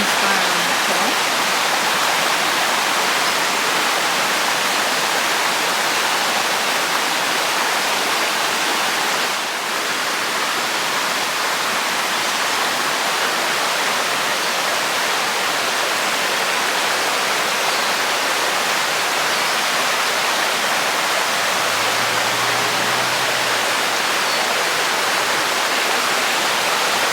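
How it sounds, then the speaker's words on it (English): A small river flowing past a motel, a loud, steady broadband rush of water that continues unbroken throughout, with no talking. "this is the little river that runs by our motel."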